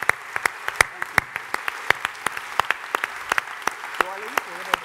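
A conference crowd at One Young World 2011 keeps up steady applause, a dense field of hand claps with distinct nearby smacks, while a voice briefly speaks under it toward the end.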